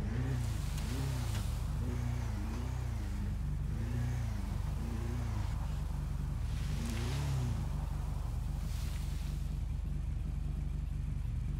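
A motorcycle engine idles and putters low and steady while rolling slowly on a cruise, with a rising-and-falling throb repeating every second or so and no talking.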